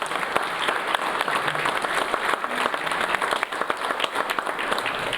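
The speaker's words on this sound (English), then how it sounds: "So let's give them a round of applause." Audience at a community center ribbon-cutting ceremony applauding, dense sustained clapping from many hands, loud and steady throughout.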